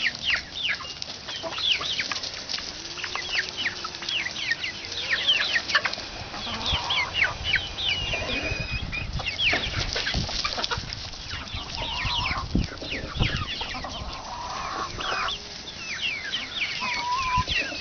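Ten-week-old Red Star pullets cluck and chirp constantly at close range, a dense overlapping chatter of many birds that runs throughout.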